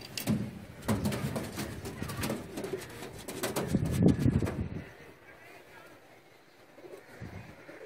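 A breeder pair of pigeons coos in bursts through the first five seconds, their soft rounded calls close to the microphone over light wind noise, then fading to quieter background.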